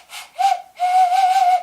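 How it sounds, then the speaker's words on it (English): An eggplant-shaped whistle is blown in two tones, a short toot followed by a longer sustained note, loud and close with no talk. "eggplant whistle, you can drink it."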